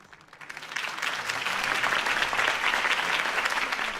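Applause from a crowd in a Telltale Batman video game cutscene swells quickly after a quiet start, then holds as dense, steady clapping throughout.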